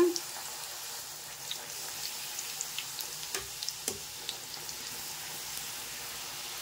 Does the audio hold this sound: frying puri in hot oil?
yes